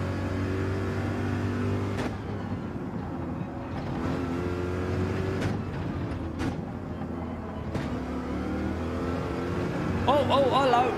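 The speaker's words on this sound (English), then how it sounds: "Come on, Corvette. Give me some grunt." A Corvette engine in Gran Turismo 7 drones steadily through a daily online race, held revs with a few sharp shifts or bumps and a brief squeal near the end; someone talks over it.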